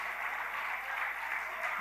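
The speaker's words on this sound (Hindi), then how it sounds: "भाई तालियां और जोरदार होनी चाहिए।" Applause from the audience at a mushaira poetry gathering, a brief, even wash of clapping heard at moderate distance with no break.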